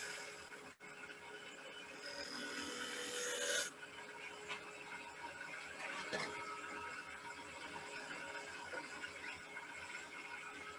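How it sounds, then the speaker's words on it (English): A bowl gouge rubs against spinning wood on a lathe, marking out a tenon, making a continuous raspy scraping that is loudest at first, then eases into a steadier lower rubbing hum. "And then I'm just going to come in with a bowl gouge"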